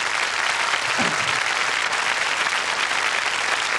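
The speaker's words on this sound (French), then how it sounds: "mes musiciens, que je vous demande d'applaudir également" A theatre audience applauds the musicians at a French variety show, a dense, steady wash of clapping that fills the room without a break, with a brief voice rising faintly beneath it.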